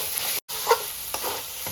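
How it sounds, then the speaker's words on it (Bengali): Minced chicken fries in a pan as it browns for keema paratha, a soft continuous sizzle broken by a brief silence and a few faint scraping clicks. "মাংসটা মোটামুটি ভাজা হয়ে এসছে, আমি এটা ভালো করে লাল করে কষিয়ে নেব।"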